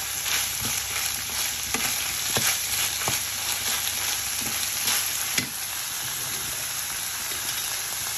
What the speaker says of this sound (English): There we go, and I thoroughly stir that in.